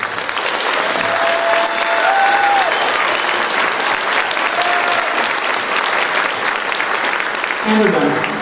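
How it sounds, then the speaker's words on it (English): Loud, sustained applause from the audience for the senior class at a school spring pops band concert, a dense clapping roar holding steady for several seconds before tapering off near the end. "So please give them another round of applause."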